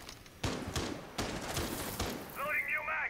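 Gunfire crackles in Rainbow Six Siege, with a few sharp shots and short bursts at moderate distance mixed with in-game sounds, while people talk over it.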